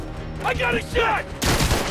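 A gunshot burst fires in Spider-Man: Miles Morales, arriving abruptly as a dense, loud blast after shouted voices, and holds to the end of the moment.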